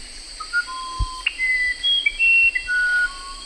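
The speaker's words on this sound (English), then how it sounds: "This is what the irapuru sounds like." Musician wren (irapuru) song in the jungle: a series of clear, pure whistled notes at varying pitches, spaced irregularly over a faint background hum of insects.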